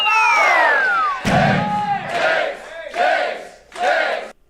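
A convention crowd of about forty people roars with cheers, whoops and battle-cry shouts, several loud surging waves with brief dips between them, one rising whoop leading off.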